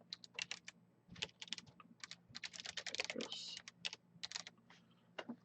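Rapid bursts of quiet typing on a computer keyboard, with irregular clusters of keystrokes and short pauses, close and fairly soft.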